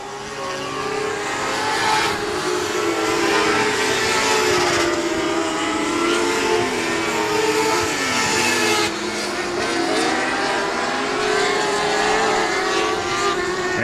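Sprint cars racing at Texana Raceway Park during a Southern United Sprints event, several engines roaring and revving continuously at close range, the loud dense drone rising and falling as the cars pass, with no talk.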